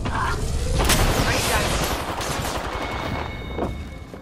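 Rapid bursts of video game gunfire from a cave shootout, dense and loud volleys crackling continuously with sharp impacts throughout, a voice talking briefly underneath.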